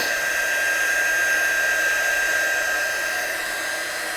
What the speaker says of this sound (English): I'll just put the heat gun on this and show you what I mean.